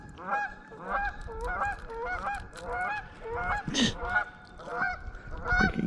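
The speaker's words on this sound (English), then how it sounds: "Freaking geese are sitting on a nest everywhere out here" Geese near their nest in early spring give repeated loud honks in short bursts, several calls overlapping at moderate distance, with faint background noise.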